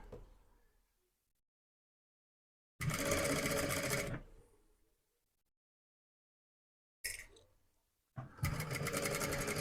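A sewing machine stitches a zipper onto a sleeveless sweatshirt jacket in two loud, fast whirring bursts with a short sewing spurt between them and quiet pauses in between.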